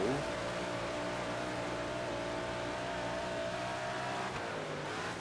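Sprint car engines in the World of Outlaws 24 racing game during a heat race at Grant Park, a steady droning roar at constant pitch, loud and unbroken across the whole stretch with no voices.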